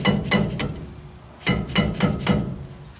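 Hammer slugs tightening a rear brake part on a 2004 Chevy Silverado: seven sharp, close metallic blows, three quick ones, a short pause, then four more in an even rhythm.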